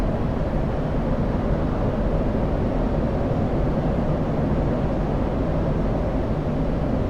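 Aircraft engine noise in the DCS flight simulator during a VFR flight from Nellis AFB toward Groom Lake: a steady, unbroken drone with a constant level, heard alone without any talking.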